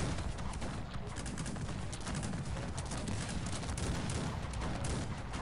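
A continuous dense crackle of musket volleys and cannon fire rolls through a Cossacks 3 battle, loud and unbroken from start to finish with no pauses between shots.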